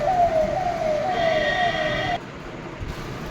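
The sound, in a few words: emergency ambulance siren in Kerala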